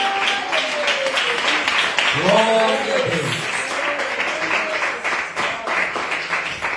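Church congregation clapping during a worship service, a steady wash of many hands kept up throughout while a voice calls out and others sing or speak over it.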